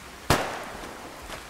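A single sharp sniper rifle shot from the video game Fallout: New Vegas cracks out loud and close, trailing into a short decaying echo, with a fainter second report about a second later.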